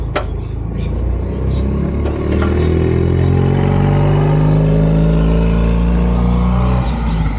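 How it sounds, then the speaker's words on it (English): A small Fiat car passes along a suburban street in Melbourne's inner west, its engine rumbling loud and steady up close for several seconds with a faint clatter. "there's a cool little Fiat that's been going up and down the street this morning."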